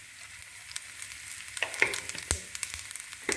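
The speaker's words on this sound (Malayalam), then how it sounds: "കടുക് പൊട്ടുന്നുണ്ട്" Mustard seeds splutter in hot oil with quick, scattered pops and crackles over a faint sizzle, the bursts growing denser toward the end, close and fairly quiet with no talking.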